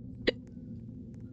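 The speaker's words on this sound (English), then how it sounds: "I have the hiccups." One faint, abrupt hiccup from a person, a single short catch over a low steady background hum, then quiet.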